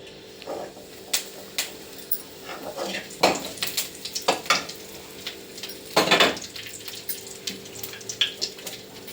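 Curry leaves fried in a small spoonful of hot oil for chicken gravy, giving scattered bursts of sizzling and spatter with spoon and pan clatter, close and intermittent.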